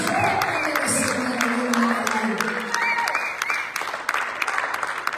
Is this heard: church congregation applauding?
yes